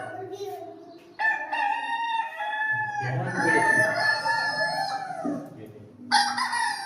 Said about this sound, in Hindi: ये मुर्गा और मुर्गी की आवाज।